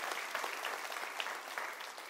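Applause from a church audience, a steady dense patter of many hands clapping at moderate level with no speech over it.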